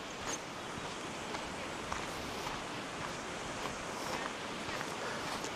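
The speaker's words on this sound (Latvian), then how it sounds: "Upīte tek paralēli mums pa kreiso pusi. Visu laiku var dzirdēt ūdens šalkoņu." A small river runs beside a hiking trail in the Tatra valleys near Chochołowska Polana, a steady broadband rush of water that holds at an even level throughout with no talking.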